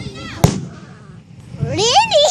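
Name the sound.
fireworks exploding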